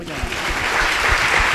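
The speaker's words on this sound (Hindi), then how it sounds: "ताली बजाइए।" A church congregation claps during a worship service, dense continuous applause with a slight swell that holds steady, close and loud.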